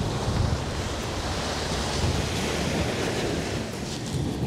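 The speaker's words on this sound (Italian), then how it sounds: "le onde arrivano di riflesso, ma non direttamente" Sea waves crash and wash continuously against the rocks of a harbour breakwater, a broad, steady roar of surf mixed with gusty wind buffeting the microphone, with no voices.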